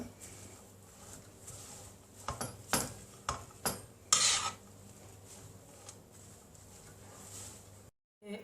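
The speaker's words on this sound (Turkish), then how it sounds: "Karıştırıyoruz karnabahar kısırımızı" Cauliflower kisir salad being stirred with a utensil in a bowl: a few soft, separate rasping scrapes close by, each lasting about a second, over a quiet background.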